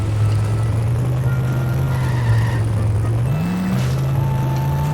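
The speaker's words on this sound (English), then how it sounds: "So now let's just get into our car and go talk to Cletus" A car in The Simpsons Hit & Run drives steadily, its game engine a loud continuous low hum that briefly rises in pitch before settling, with no talk.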